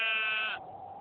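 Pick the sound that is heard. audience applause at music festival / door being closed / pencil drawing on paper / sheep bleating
sheep bleating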